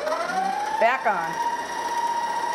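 A stand mixer running on very low speed while blending gougère dough, giving a steady mechanical hum with a brief shift in tone partway through.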